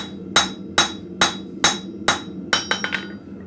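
A blacksmith's hammer strikes steel on an anvil at a forge, five loud evenly spaced ringing blows followed by a quicker run of lighter taps, close and clear with no talk.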